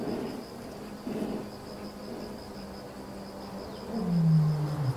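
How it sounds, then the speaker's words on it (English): A lion roaring on open African grassland: a low, drawn-out moaning roar swells near the end after a quieter stretch of faint, grunting rumbles, with a steady high hiss of insects throughout. "A lion's roar carries up to 5 miles across the open grasslands, a sound that reverberates through the chest of every creature within range."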